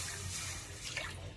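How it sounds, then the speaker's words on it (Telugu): Water is poured into a cooking pot set out for telagapindi curry, a short close splashing trickle that runs on steadily without talk. "వాటర్ వేసుకుందామండి"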